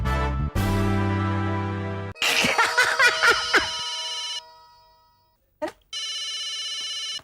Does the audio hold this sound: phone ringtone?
yes